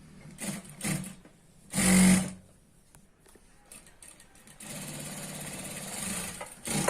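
A sewing machine stitches a churidar pant in short bursts, with a loud run near the start, a pause, and then a longer, steady whir toward the end, heard close with no talking.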